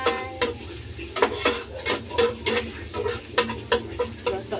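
Fried rice with hotdog stir-fried in a pan, a steady sizzle running underneath repeated sharp scrapes and clanks of a utensil against the pan, coming every half second or so, close and fairly loud.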